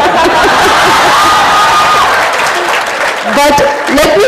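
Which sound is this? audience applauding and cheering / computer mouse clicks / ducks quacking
audience applauding and cheering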